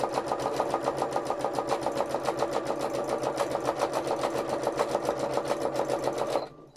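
A domestic sewing machine stitching free motion embroidery runs at a steady rapid needle rhythm, loud and close, for several seconds before stopping abruptly near the end.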